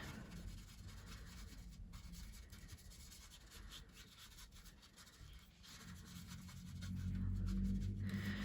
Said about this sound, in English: So we just rub that in.